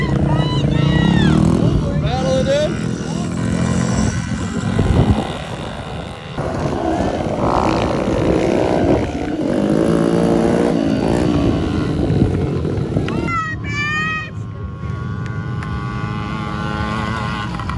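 KTM mini motocross bikes race past, their small engines revving and whining loudly with rising and falling pitch, close and continuous, with people talking over the roar.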